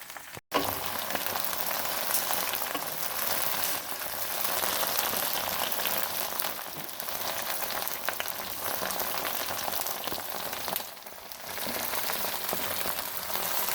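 About a kilo of okra (bhindi) frying in a pan, a dense, steady sizzle that hisses continuously and loudly with brief dips, no voices.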